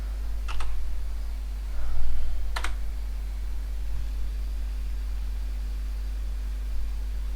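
Sparse keystrokes on a Maltron one-handed keyboard, a couple of sharp clicks standing out above a constant low electrical hum, with long quiet gaps between them.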